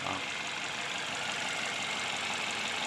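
A Toyota Altis with an automatic transmission idles with a steady mechanical hum and a fine rattling knock running through it, even and continuous, heard close up with no talking.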